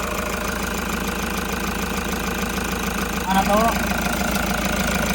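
A Toyota Hiace van engine idles with a steady, slightly knocking hum during an inspection in Panglao, Bohol, while someone briefly speaks over it.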